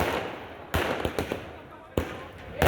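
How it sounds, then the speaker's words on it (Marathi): Firecrackers and fireworks set off by party workers celebrating an election win in Sangli, heard as several sharp bangs and cracks spaced irregularly over a noisy outdoor background. "महाविकास आघाडीच्या विजयानंतर कार्यकर्त्यांनी फटाक्यांची आतषबाजी केलेली आहे।"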